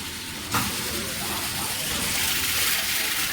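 A steady, broad hiss of churning liquid starts abruptly after a brief pause and continues evenly as a 500L vacuum emulsifying homogenizing mixer blends water and oil.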